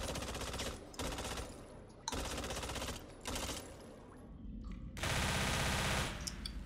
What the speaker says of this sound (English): The weapons in Back 4 Blood are like all muffled.